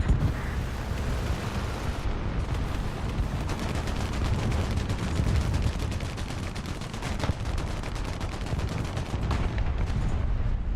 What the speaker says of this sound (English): Oh, that must have been what that explosion was.